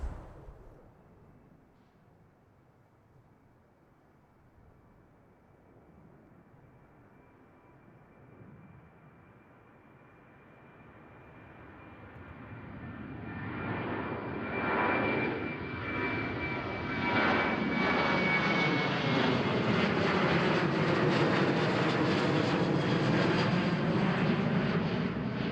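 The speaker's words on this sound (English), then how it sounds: "we got a 737-800 from Norwegian Airways going to Oslo" Norwegian Boeing 737-800 jet passing at Amsterdam Schiphol, starting as a faint distant whine and growing into a loud, broad engine roar with a shifting whistle that keeps building to the end.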